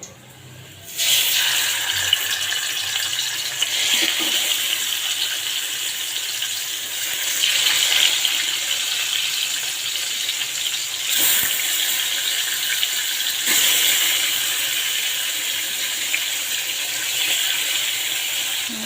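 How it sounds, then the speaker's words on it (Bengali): Tilapia fish fries in oil in a pan, giving a loud, steady sizzling hiss that starts abruptly and continues evenly to the end. "কিছুটা তেল দিয়ে দিব মাছটা ভাজার জন্য"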